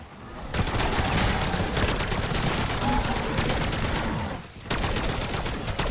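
Rapid automatic gunfire in Black Ops 6 zombies: a dense, loud stream of close shots that pauses briefly near the end before resuming, with no distinct talking over it.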